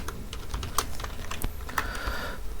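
Code being typed on a computer keyboard during a React tutorial, with steady, fairly quiet key clicks in quick bursts and a few sharper taps, heard alone.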